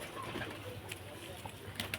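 Pigeons cooing faintly and repeatedly in the background, with low murmuring throughout and a few soft chirps near the end.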